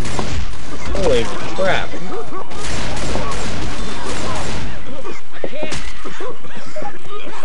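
Gunfire aimed at a Charger in Left 4 Dead 2, in a swamp setting: dense bursts of shots and impacts tangled with game noise, with people talking and shouting over the fight.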